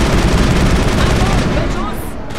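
Gunfire in the video game Mass Effect during a firefight on the Citadel, a dense, loud burst of shots and booms throughout, with voices talking over it.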